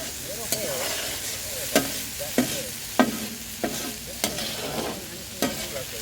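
Vegetables frying in a very large hot pan, a continuous sizzle broken by sharp scraping clacks of a utensil stirring at irregular intervals, close and moderately loud with no talk.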